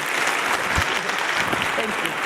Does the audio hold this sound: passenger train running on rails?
no